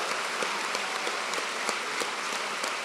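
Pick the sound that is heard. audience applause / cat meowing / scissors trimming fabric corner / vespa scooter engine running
audience applause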